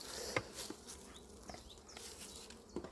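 Honeybees hum softly and steadily inside an open five-frame nucleus hive seen from above, a faint continuous buzz with a few brief louder passes.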